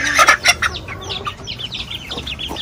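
Shamo chickens at a farm in General Santos City give a run of short, close clucks and chirps, loud at first and then a steadier chatter of softer calls.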